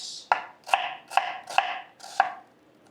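A knife chops through an onion on a cutting board in five sharp, evenly spaced strokes, each crisp thud trailing a brief scraping hiss, close and alone.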